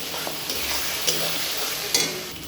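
Turmeric frying and being stirred in hot oil for a meat curry base, a steady close sizzle throughout with a few brief scraping stirs, no talk.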